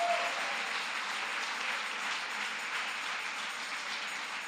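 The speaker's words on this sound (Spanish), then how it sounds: "Siempre ese aplauso es para aquel que nos guarda." A church congregation applauds during a sermon, a dense, steady wash of clapping that holds at an even level for several seconds with no voices over it.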